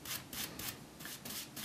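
A paint brush drags across wood in several short, evenly spaced strokes, each a soft close bristly swish with a brief pause between.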